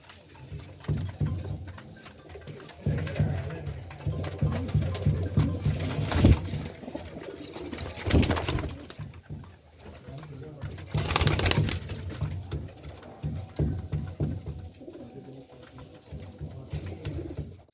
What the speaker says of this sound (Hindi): बड़ा कबूतर है